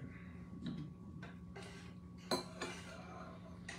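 A spoon stirs pinto soup beans in a pot, giving faint scattered clinks and scrapes with one sharper knock partway through, all quiet against a low background hum.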